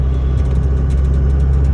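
Steady low diesel drone from a 2002 Ram 2500 with the 5.9 Cummins engine while driving, a continuous deep rumble heard from inside the cab with no talking.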